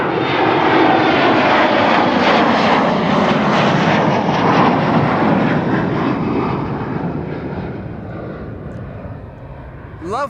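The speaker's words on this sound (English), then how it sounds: "Love that this Embraer took a very shallow approach, or a very shallow, was climbing out shallowly" An Embraer jet climbing out shallowly from Amsterdam Schiphol, its engines a loud, broad steady roar that slowly fades as it moves away, with faint voices underneath.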